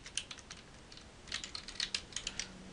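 Keys on a computer keyboard are tapped in quick, irregular bursts as a password is typed, with the close, crisp clicks standing alone in a quiet room.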